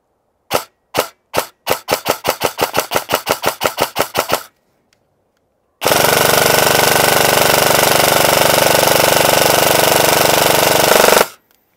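Rapid bursts from a VFC MK18 airsoft rifle firing BBs: a string of about twenty sharp semi-auto cracks speeding into a quick rhythm, then after a pause a loud, sustained full-auto buzz for several seconds, close and with no voices.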